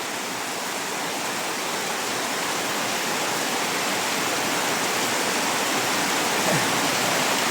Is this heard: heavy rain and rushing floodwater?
yes